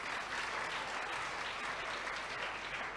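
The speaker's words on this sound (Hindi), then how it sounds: "ताली बजाइए चरित्रवान के लिए।" An audience at a student camp applauds steadily together, a dense even patter of many hands held at a moderate distance and level for a few seconds.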